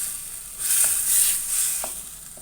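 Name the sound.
tomato puree frying in a pan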